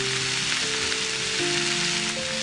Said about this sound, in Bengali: এবার আমরা ভালো করে এটা নাড়াতে থাকবো। অল্প একটু ভাজা ভাজা মতো করব।